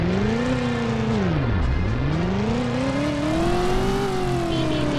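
A car engine in the PlayStation game Driver (1999) revs down to a low point, then climbs steadily back up in pitch, loud and continuous with no talk over it.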